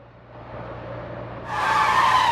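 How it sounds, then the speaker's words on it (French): Engine roar from a Formula 1 race car in a racing video game, then a harsh, sustained tire squeal as the wheels lock up under braking, loud and close. "Regardez, la voiture qui se bloque."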